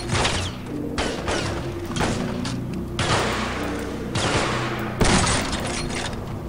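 Heavy automatic gunfire from soldiers in the Delta Force video game, a loud sustained barrage of overlapping shots with booming thumps and bursts that swell and restart every second or so.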